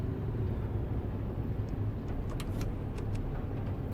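A modded Scania truck engine in Euro Truck Simulator 2 drones in a steady, loud low rumble throughout, with faint clicks and ticks above it and no speech.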